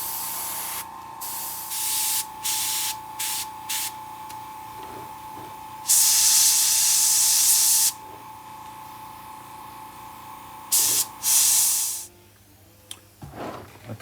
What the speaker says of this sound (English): now I'm going to go over it with a mist of the same transparent black